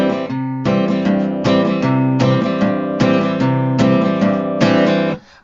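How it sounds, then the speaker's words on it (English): Acoustic guitar strummed in a root-and-fifth country style, with steady chord strums in an even plodding rhythm, close and clear, and no voice over it. "But there's another way to play chords, and that's something called a root and fifth,"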